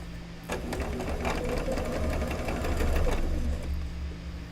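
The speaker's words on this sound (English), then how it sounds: "we're going to start another row of chain piecing" A sewing machine chain piecing quilt blocks runs in a fast, steady mechanical whir with rapid needle ticking, close and continuous for several seconds before slowing toward the end.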